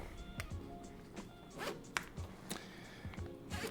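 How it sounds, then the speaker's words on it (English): A YKK zipper on a motorcycle leather jacket pulled repeatedly, quick close zipping strokes with soft rustling of leather in between, quiet and without talk. "YKK zippers."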